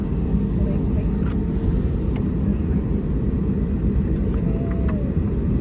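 A jet airliner holds on the ground at Indore Airport before takeoff, its engines giving a steady, heavy low rumble that fills the whole stretch at a constant level.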